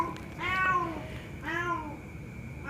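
A cat meows twice up close, two clear drawn-out calls about a second apart in a quiet room, with the start of a third at the very end.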